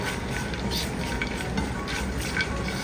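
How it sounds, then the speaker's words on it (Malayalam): Nuts roasting in ghee in a pan on the stove for caramel semiya payasam, with a steady soft sizzle and occasional light scrapes of stirring, close by and without talk. "ഇതെല്ലാം കൂടി ഒന്ന് നമുക്ക് റോസ്റ്റ് ചെയ്തെടുക്കാം"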